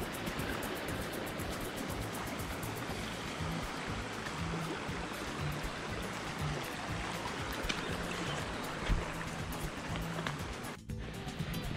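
Steady rushing stream water during a hiking water crossing, a continuous broadband wash that fills the whole clip with a brief dip near the end and no talk.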